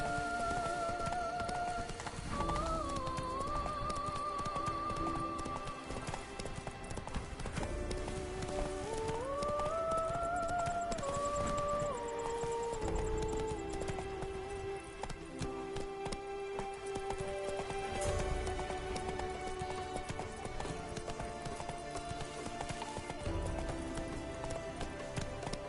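In The Witcher 3, the horse Roach gallops, with a steady, rapid clip-clop of hooves that runs through the whole stretch beneath game music.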